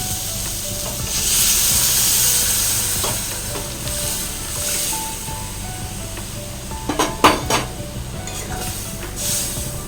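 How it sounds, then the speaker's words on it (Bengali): Boiled lentils poured into a hot pan of spices, salt and turmeric, producing a loud hissing sizzle that swells, then eases, with a few clinks of a utensil near the end, close up and without talk. "ডাল সেদ্ধ করা ডালটা এর মধ্যে দিয়ে দেবো"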